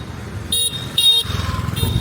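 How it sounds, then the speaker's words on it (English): Street traffic with car horns honking: three distinct, bright horn blasts sound in quick succession over a low rumble of engines and motorcycles, fairly close, and nobody speaks. "Oh, geez, traffic!"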